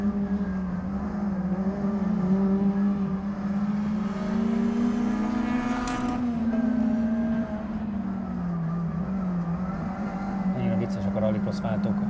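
A Lancia Delta HF rallycross car's engine idles and blips steadily at close range, a deep sustained drone with small rises and falls in pitch, while people talk over it.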